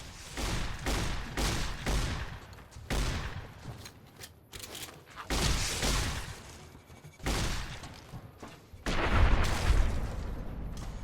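Repeated riot shotgun blasts ring out in Fallout: New Vegas while fighting golden geckos, sharp booming shots coming in irregular bursts with short gaps between them, loud and close.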